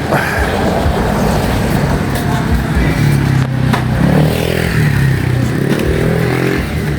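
Steady road traffic drone from inside a moving cargo-delivery vehicle in slow, congested traffic on the way to Marikina, a continuous loud engine and road rumble with a low tonal hum swelling midway, no talk.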